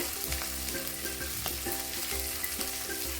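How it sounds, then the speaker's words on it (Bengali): Chopped ginger and garlic fry in a kadai, a continuous close sizzle broken by regular scraping stirs, with no talking. "আদাটাও একদম ভালো করে আমি গ্রেট করে নেবো মানে ভালো করে ভেজে নেবো"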